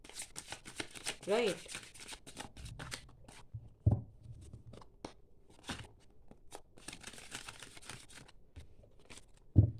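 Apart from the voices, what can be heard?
shuffling tarot cards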